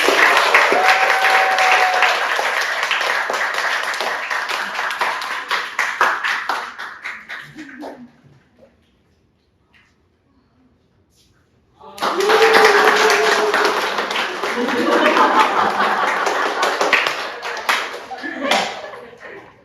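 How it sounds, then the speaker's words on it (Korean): Audience applause at a talk, loud sustained clapping that dies away into silence, then a second burst of clapping returns, with a voice speaking over parts of it. "박수 한번 부탁드립니다"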